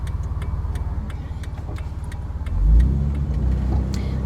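A Jeep Wrangler TJ drives along after front differential work, its engine running steadily up close with a rhythmic ticking over the low rumble, and a brief louder surge partway through.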